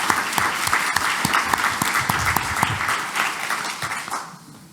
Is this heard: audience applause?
yes